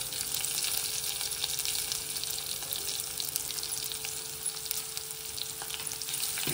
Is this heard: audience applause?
no